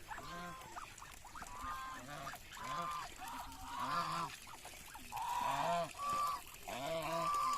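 Geese honk repeatedly nearby, overlapping calls in an uneven rhythm that grows louder and busier toward the end.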